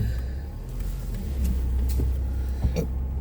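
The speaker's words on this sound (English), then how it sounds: "just been showing me how to drive the car" Car driving on a road, a steady low engine rumble close by with a brief thump near the end and no talking.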